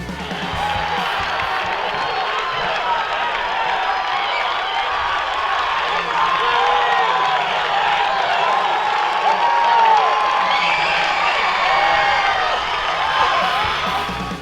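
Crowd cheering and clapping at an NCAA Division III outdoor track and field championship as runners race the final 100 meters of a close finish, a sustained roar of voices, whoops and applause that swells slightly toward the end.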